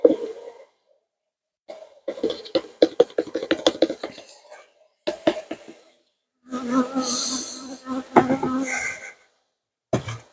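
Honeybees buzz close by in uneven bursts during a horizontal hive inspection, mixed with rattling and scraping knocks, then a longer sustained drone.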